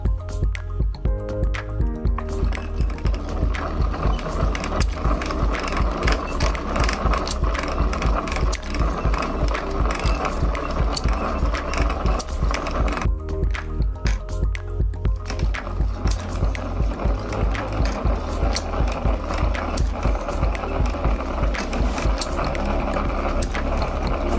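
A marble machine with a magnetic launcher, driven by a homemade generator gearbox, runs continuously with steady mechanical clicking, rolling and dripping-like ticks, close and fairly loud, with no talking.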